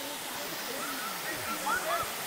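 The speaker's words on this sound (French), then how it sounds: "Et voici la deuxième cascade." A waterfall's continuous broadband roar at a park, steady and fairly loud, with faint bird chirps over the rushing water.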